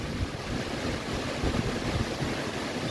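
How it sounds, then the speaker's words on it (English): Strong wind buffets the microphone outdoors on a windy day near a windmill, a loud, continuous roaring rush with low gusty thumps throughout. "You hear the wind."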